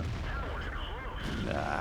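An artillery gun in World of Tanks fires a fully aimed shot, a single deep muffled boom with rumbling low end that rolls on briefly, with faint voice-like tones over a steady loud game background.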